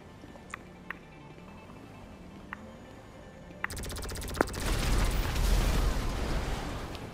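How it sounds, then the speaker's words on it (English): A few faint, isolated clicks in near-quiet give way to a sudden big explosion, its deep rumbling roar swelling and lingering for several seconds before fading slightly. "Wow, that was a big explosion."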